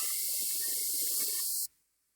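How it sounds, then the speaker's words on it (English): Spray gun painting workpieces on a rotating table, giving a loud steady broadband hiss of atomised paint that runs unbroken for over a second and a half, then cuts off abruptly, leaving near silence. "we can see a spraying tool or spraying gun using a rotating table"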